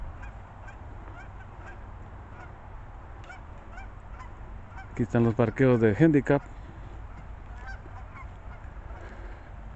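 A short burst of loud honking calls from ducks flying overhead rings out mid-clip, several rapid calls over steady outdoor background noise at a lake, with someone talking.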